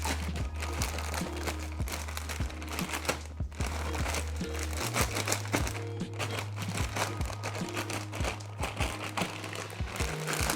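A plastic bag holding whiting pieces and batter gets shaken, giving rhythmic crinkling and rustling close up over steady background music.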